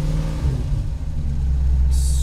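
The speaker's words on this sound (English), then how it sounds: "now that the engine is running" A car engine, started with two pumps of the gas and a push-button start, idles with a steady low rumble close by, swelling slightly as it revs, with a brief hiss entering near the end.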